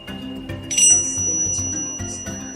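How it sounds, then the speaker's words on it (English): Bells ring out in a ritual, bright metallic strikes repeating several times in quick succession, close and clear. "So for today, I am going to ring my bells, activate energies"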